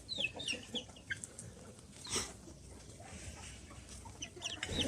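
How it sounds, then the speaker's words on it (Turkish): A rooster in a backyard coop gives scattered clucks and short calls among other chickens, moderately distant, with brief bursts of scratching and movement between them. "Horozumuz da çıktı."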